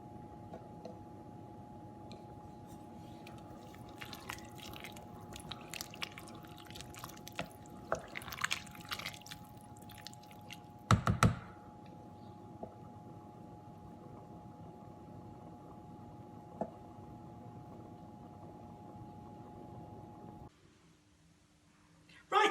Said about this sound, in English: Bubbles are starting to come to the surface.